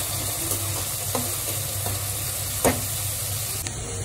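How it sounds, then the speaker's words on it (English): Chopped onions and cumin seeds sauté in hot oil, a continuous close sizzle with a few soft stirring knocks, alone without voices. "Add some oil, jeera, some onion, chopped onions. And let it saute for 2 to 3 minutes till it turns golden brown"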